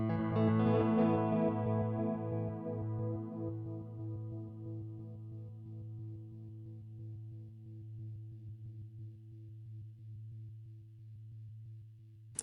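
Electric guitar played through an HX Stomp with delay and a slow sine-wave panning tremolo in stereo: a bright strummed chord rings out, then decays into a sustained, rhythmically pulsing wash of repeats.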